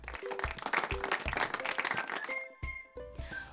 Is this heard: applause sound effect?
yes